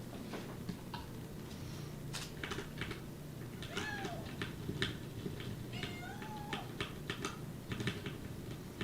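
A cat meows a couple of times, rising and falling cries moderately close, amid rapid computer keyboard typing clatter throughout.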